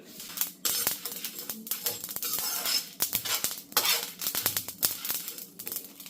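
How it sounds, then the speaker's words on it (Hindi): Spices crackle and pop while roasting in a hot pan, giving rapid, irregular sharp clicks and spatters close up, mixed with the scrape of a spoon stirring. "ये चटर पटर मसाले बस होने ही वाले हैं।"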